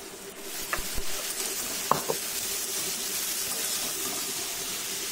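Snake gourd fries in a pan with onion and black cumin seed tempering, hissing in a dense, continuous sizzle with a few knocks of a spatula near the start, close up and without talk.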